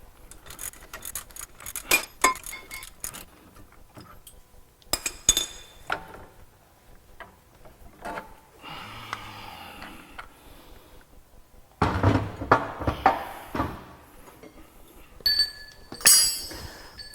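Metal clinking and clanking as a spring compressor is carefully removed from a coilover strut on a Porsche 987 Cayman, scattered sharp clinks in bursts with quieter handling noise between, close and fairly loud.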